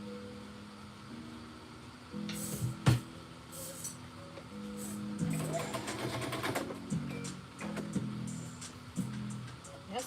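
A sewing machine stitches in bursts, its motor whirring and needle clattering in rhythmic runs that start and stop, fairly close, with faint background sound and no talk.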